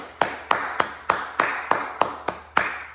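Nine single hand claps from one person, spaced at an even, unhurried pace and close and crisp, each ringing briefly in a reverberant room.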